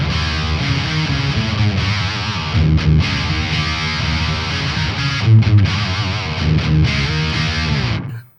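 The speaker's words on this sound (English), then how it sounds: "It's like an octaver with a little bit of an extra distortion, maybe like some fuzz type thing" A heavily fuzzed, distorted guitar through an octaver with fuzz distortion plays a thick, octave-doubled chugging riff with brief gaps between phrases, loud and saturated throughout.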